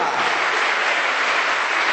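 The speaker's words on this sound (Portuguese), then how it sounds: "Dê o seu melhor aplauso para Jesus nessa noite, queridos." A church congregation applauding at an evening service, a dense, loud, unbroken wash of many hands clapping throughout, with no voices on top.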